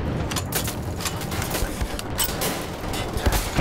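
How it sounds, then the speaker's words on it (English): Sustained enemy gunfire in the Wolfenstein: The Old Blood video game, a continuous barrage of rapid shots with sharp louder bursts near the end, no voices over it. "He just doesn't stop shooting."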